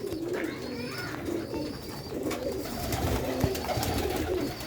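Sialkot pigeons coo softly in a loft, with repeated low throaty calls and some rustling and clicks in the background.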